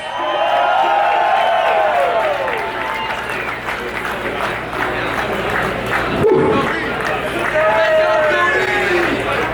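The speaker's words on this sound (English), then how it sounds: "How about a round of applause for sporting greatness?" A loud crowd cheers, whoops and claps at the end of a shrimp cocktail eating championship, with shouting voices and excited chatter layered over steady applause throughout.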